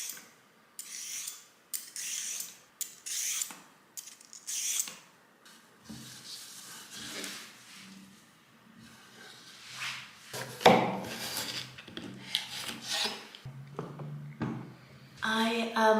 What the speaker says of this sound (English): And I'm gonna cut up some vegetables to go with